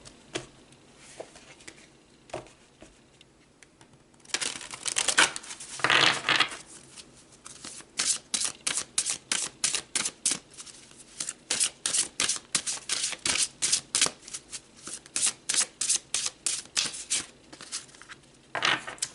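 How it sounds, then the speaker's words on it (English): Oracle cards are shuffled up close, starting with a few soft riffles and then settling into a long run of quick, evenly spaced flicks and slaps of the cards; no speech. "All right, let's pull some more cards."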